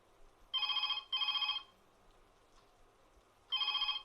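A telephone bell rings in three loud bursts, two close together and then one more after a pause, over a quiet background.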